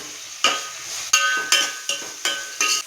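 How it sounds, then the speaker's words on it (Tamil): Onion and crushed garlic sautéing in a pan with repeated stirring strokes, giving a steady sizzle broken by six sharp scrapes and clinks of a utensil against the pan, close and fairly loud, no talking. "பூண்டு இடித்து வச்சுருக்கேன். அதை இதில் சேர்த்து வதக்கலாம்."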